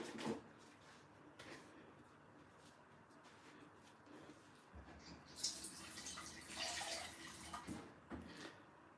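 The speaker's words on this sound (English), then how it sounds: "Let me add a tiny bit of water to it to rinse out this crayfish." A small amount of water is poured over crayfish in a kitchen to rinse it while cooking Afang soup. The trickling and splashing is faint and close, with quiet handling knocks and no speech.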